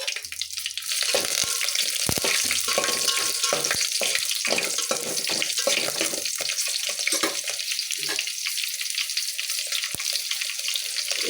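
Curry leaves and four green chilies dropped into hot oil for a simple pulao, giving a loud, continuous crackling sizzle with repeated sharp spits and pops over about eleven seconds, with no voices.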